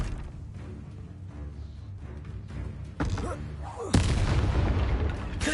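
A Bombarda spell explosion in the video game Hogwarts Legacy, a loud booming blast that strikes suddenly after quieter spell effects and leaves a rumbling roar, with a voice heard in the clip.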